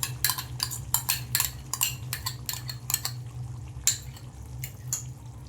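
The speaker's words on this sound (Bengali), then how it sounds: "এবার টক দইটা দিয়ে আমি চিকেনটা ভালো করে টক দইয়ের সাথে মিশিয়ে নেব।" Spoon scraping and clinking in a pot while chicken is mixed with sour yogurt, a steady run of near, sharp metallic strokes with soft wet squelches between them.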